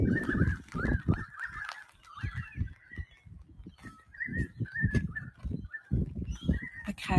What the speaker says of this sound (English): we actually have a couple of noisy miners swooping some magpies